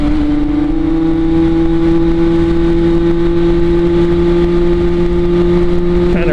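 A Derbi Senda 50cc motorcycle engine is held high near redline, a loud, steady, buzzing drone with a constant pitch close to the listener, with no break or gear change.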